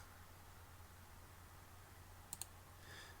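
Two quick, faint computer mouse clicks sound in close succession over a quiet background hum, with no talking.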